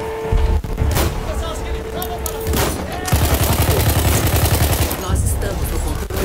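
Gunfire in the video game Battlefield 1, set in the Suez desert on Xbox One: rapid bursts of shots and rattling automatic fire mixed with explosions and engine noise, continuous and loud throughout, with players talking over it.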